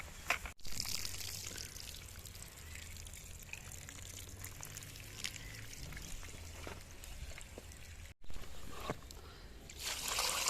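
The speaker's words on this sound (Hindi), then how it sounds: "पालक को मल मल के धोया जा रहा है जी।" Fresh spinach is rubbed and washed by hand in a vessel of water, with intermittent sloshing, splashing and trickling close by, with a couple of sharp knocks and pauses.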